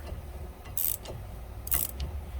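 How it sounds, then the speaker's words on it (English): Ratchet tool turning a rear brake caliper piston back in, two quiet ratcheting clicks about a second apart over faint background noise. "ratcheting it in. And as you can see, it starts turning it in."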